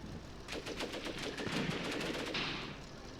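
Machine gun fire in the WWII tank battle game Graviteam Tactics: Mius Front, heard as rapid overlapping bursts of automatic gunfire for about three seconds, steady and fairly loud throughout with no voices.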